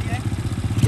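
A motorcycle engine idles just after being started in a rural village, a steady near chugging pulse throughout the brief moment.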